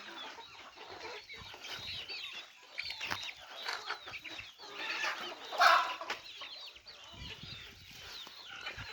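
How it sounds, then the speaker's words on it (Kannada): Native country chickens on a farm in Kollegal, clucking and calling almost nonstop at close range, with brief wing flaps and one louder squawk in the middle. "ನೋಡಿ ನಾಟಿ ಕೋಳಿ ಸಾಕ್ತಾಯಿದೆ."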